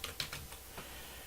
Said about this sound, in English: I'm going to press the logo key and start typing in the word tweak